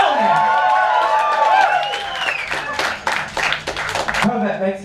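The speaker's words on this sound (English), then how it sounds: "clap those people in" A church night congregation claps to welcome first-time visitors: a burst of dense, overlapping applause from the crowd, rising after a shouted voice and continuing under excited talk.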